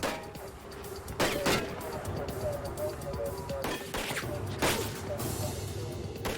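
Several sharp gunshots from police officers firing on an armed suspect who shoots back with a .45 pistol, loud bangs in a staggered sequence over a noisy scene with faint voices underneath.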